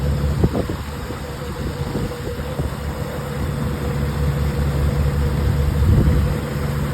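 Cruise boat motor running steadily on Halong Bay in Vietnam, a loud low drone with a constant mechanical hum and no break, close by, with no talk.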